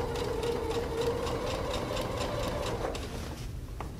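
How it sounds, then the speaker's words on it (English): A sewing machine stitches a fabric seam slowly while the fabric is held flat, giving a steady mid-pitched whirring hum that runs for nearly three seconds, then stops. "We're just going to hold it nice and flat, stitch nice and slow."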